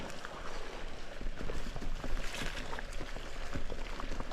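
Someone drinks water from a hydration pack, with dense, continuous sipping and gurgling liquid noise close by, lasting several seconds without pause.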